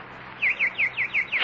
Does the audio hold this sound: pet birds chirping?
yes